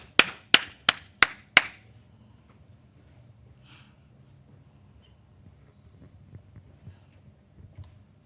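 Five loud, quick claps in a steady rhythm at a religious class meeting, followed by a long stretch of quiet room tone with faint low murmuring.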